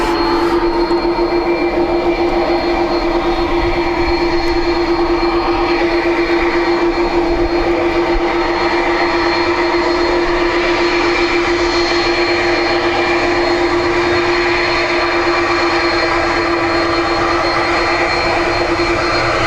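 Jet airliner flight EI 107 departing Dublin Airport for JFK, a loud, steady broadband roar that holds throughout with a tonal engine whine and no talk.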